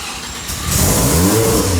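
A freshly rebuilt Mazda RX-7 FD rotary engine catches on its first start, rising from a quiet crank into a loud, steady rev near the microphone.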